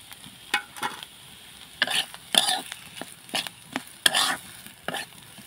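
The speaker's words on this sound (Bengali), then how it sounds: "আলুগুলো আমি ভালো করে নেড়ে চেড়ে রান্না করে নিব।" Potatoes being stirred and fried in a pan, with repeated scraping stir strokes in an irregular rhythm over a soft sizzle, close and fairly loud.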